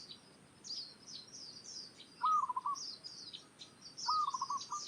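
A zebra dove repeats a short trilled call twice against high chirping from other birds in an outdoor setting, faint and with no voices.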